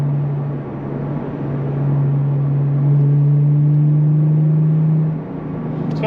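A Lexus IS250 with its exhaust back box deleted hums at a steady low drone from inside the car, holding revs just under 3,000 RPM for several seconds before the note drops away.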